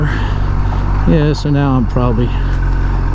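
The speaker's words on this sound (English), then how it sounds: "you can hear the motorcycle just kind of chugging up this hill" A motorcycle engine chugs steadily up a rocky hill at about 20 to 25 degrees, a loud, constant low drone with a rider talking over it partway through.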